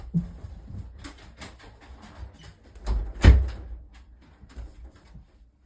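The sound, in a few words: door being shut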